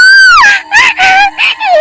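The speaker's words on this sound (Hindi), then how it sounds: "उस खोपड़ी की डरावनी चीख से रोशनी बहुत जोर से डर जाती है।" A cartoon skull lets out a scary, shrill scream in a Hindi horror cartoon, a loud wavering wail broken into several rising and falling bursts.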